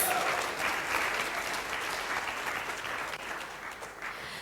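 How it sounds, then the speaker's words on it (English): A crowd at a Sunday temple gathering claps steadily, a dense wash of applause that holds for a few seconds and gradually thins, with no voices over it. "So let's give them a round of applause."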